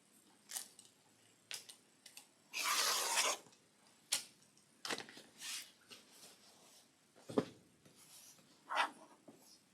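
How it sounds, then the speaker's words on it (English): Fabric cut and trimmed for a quilt block, close scattered snips and short scraping strokes with pauses between, one longer rasping cut early on, quiet room and no talk. "Let's just cut it and trim it down."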